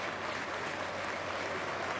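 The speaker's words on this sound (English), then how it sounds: "everybody here just showing warm applause for Chester Butler as he leaves the field" A stadium crowd at a York Knights versus Bradford Bulls rugby league match applauds warmly as a player leaves the field, a dense, even wash of clapping that holds steady throughout.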